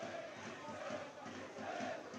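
Vicenza football supporters chant together in a Serie C match at Virtus Verona, a broad, sustained wall of massed voices swelling and dipping slightly, heard from a distance across the stadium with no talk over it.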